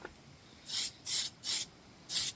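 Four short hissing bursts from a spray can laying Tamiya PS1 white paint onto an RC car body, each about a quarter second long with brief pauses between, close and otherwise quiet.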